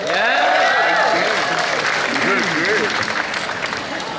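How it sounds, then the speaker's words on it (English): Large outdoor crowd at the AIDS Walk opening ceremony in Central Park applauding and cheering loudly, a sustained roar of clapping with whoops and shouted voices mixed in. "Can we get a round of applause for this amazing weather?"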